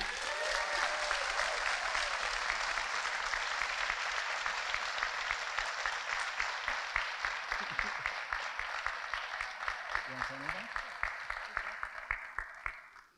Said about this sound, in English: I need everyone to give you the best round of applause you can for our own driver